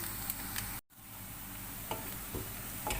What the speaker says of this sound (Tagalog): I-fried muna natin siya dyan.